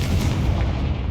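Confringo blasting curse explosions in Hogwarts Legacy: a short, dense, loud burst of booming impacts, heavy and close, filling the whole moment without a break.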